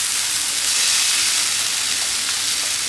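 Eggplant frying on a dosa pan, a constant bright hiss of sizzling oil held at an even level throughout, with no talking.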